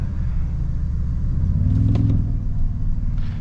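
Cabin view of a 2024 Toyota Tundra TRD Pro engine under steady throttle, a deep continuous rumble with a slight rise partway through, close and fairly loud with no talking.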